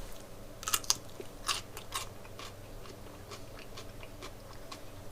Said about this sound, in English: So cut yourself a little slice and taste it.